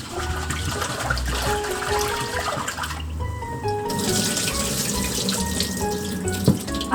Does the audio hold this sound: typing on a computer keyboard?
no